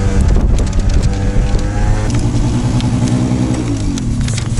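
A Honda Giorno AF24 scooter ridden at about 50 km/h in strong wind, its small engine droning steadily up close while wind buffets the microphone throughout, the engine pitch shifting slightly partway through.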